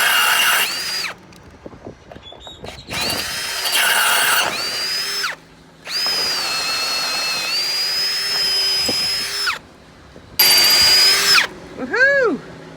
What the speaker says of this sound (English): First hole I drilled was a smaller pilot hole, about 1/4 inch.